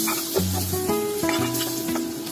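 Butter, minced garlic and canned mushrooms sautéing in a pan, with a steady close sizzle and crackle running throughout and light stirring clinks now and then, no voices.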